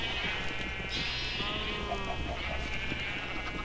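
Sheep bleating in the video game Minecraft, several wavering calls from a flock penned in a farm enclosure, fairly close and layered over a low steady game background hum.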